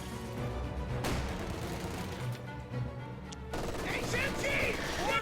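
Machine gun fire in the Company of Heroes 2 strategy game, set among Vickers and MG42 positions, rattles in rapid bursts that blend into a dense battle din with sharp reports.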